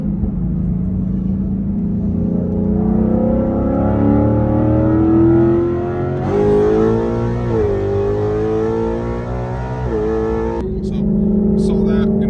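A car fitted with a new air filter accelerates hard from a 40 mph roll. The loud, close engine drone climbs in pitch through successive gears, with brief dips at each shift, and continues as a steady roar.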